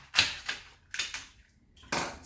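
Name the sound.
knife cutting the back off a celery bunch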